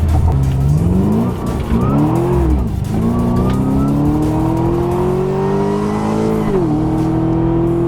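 A 505 wheel-horsepower Pontiac G8 revs hard and climbs steadily in pitch as it accelerates, loud and close, with a brief dip at a gear change before rising again.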